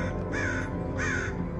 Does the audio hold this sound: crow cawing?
yes